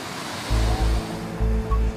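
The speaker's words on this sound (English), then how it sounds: "you see the lagoon is like a rough sea, which is not common" Rough sea waves surge and crash in the Rangiroa lagoon during unusual bad weather, heavy low rolling surf with a couple of strong pulses close by.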